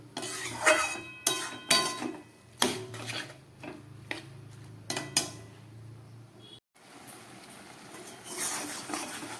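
Masoor dal and pumpkin greens being mixed in a cooking pot, with a spoon knocking and scraping in irregular clinks and bumps, close by, and a short break near the end; no one speaks.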